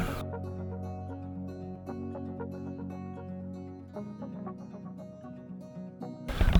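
Chickens and turkeys cluck and chatter continuously nearby, a steady flock murmur with scattered sharper calls, ending in a brief burst of handling noise.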